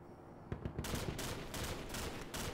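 Rapid gunfire in the video game Call of Duty Frontlines, a dense rattling fusillade of quick shots starting after a brief lull and continuing steadily, fairly faint and somewhat muffled.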